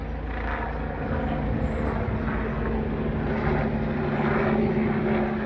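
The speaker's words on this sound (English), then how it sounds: "and even comes with a helicopter." A helicopter flies over Cheltenham Spa, a two-platform Great Western railway station, giving a steady, fairly loud rotor and engine drone that holds evenly throughout, with no talking.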